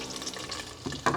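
Thinly sliced onions and garlic are dropped into a hot, thin-walled pot and fry with a soft, close sizzle that swells to a louder burst near the end, with no talking.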